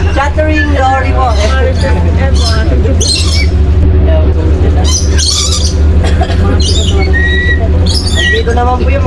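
Chattering lories squawk loudly and shrilly in an aviary in Ilocos, Philippines, harsh calls stacking over a steady din of crowd babble and nearby chatter.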